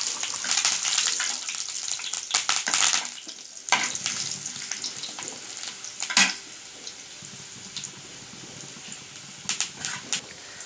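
Curry leaves hitting hot oil with sautéed garlic for a bitter gourd pickle, giving a loud, close burst of crackling sizzle that spits and pops, then settles into a quieter steady fry with a few sharp crackles.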